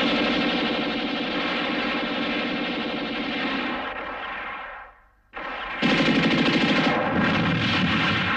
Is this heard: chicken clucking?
no